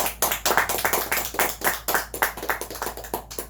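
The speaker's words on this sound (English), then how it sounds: "let's give them a round of applause." A small group at an indoor proclamation signing claps together, a sparse, close round of separate hand claps that stays fairly even for a few seconds.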